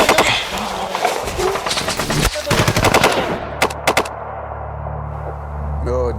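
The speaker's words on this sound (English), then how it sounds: "the Adam base came upon simultaneous fire from an unseen enemy" Heavy gunfire from an unseen enemy in a combat scene, dense overlapping bursts and sharp shots loud and close, then a few isolated cracks before it fades into low rumble and a brief voice.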